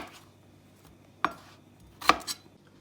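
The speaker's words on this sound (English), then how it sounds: "I'm gonna nicely slice them about this thickness" Peeled, washed potatoes being sliced with a knife on a board, two sharp isolated cuts close by in a quiet kitchen.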